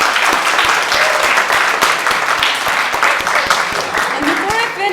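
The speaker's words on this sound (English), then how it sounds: "So please give them a round of applause" An audience breaks into sustained applause, dense clapping from a large crowd filling the space at close range, with voices mixed in throughout.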